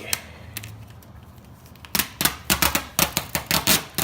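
Knifeless tape is torn off a 2017 Subaru WRX fender in a quick series of sharp, crackling rips, close and loud after a quieter start.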